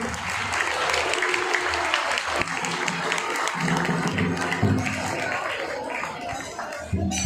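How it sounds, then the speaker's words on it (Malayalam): An audience at an Onam celebration bursts into sustained applause, many hands clapping densely and steadily for several seconds before it starts to thin toward the end, with faint crowd murmur underneath. "എല്ലാവർക്കും കൈയടിക്കാൻ കൊടുക്കാം"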